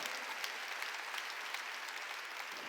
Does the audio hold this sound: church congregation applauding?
yes